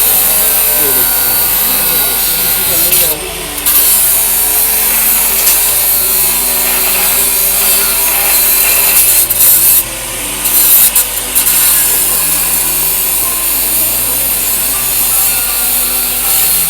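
Earthquake debris in Adıyaman is cut with a loud, continuous, grinding saw that runs close up, briefly breaking off twice before resuming, with occasional voices nearby.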